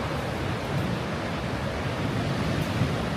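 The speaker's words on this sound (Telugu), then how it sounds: "ఈ సెలయేళ్ళు, ఈ మధుగంగా నది అలా పారుతూనే ఉన్నాయి" Steady rushing water flows without pause, a broad, even roar of mountain streams and the Madhuganga river running nearby on the Madmaheshwar trek, with no voices.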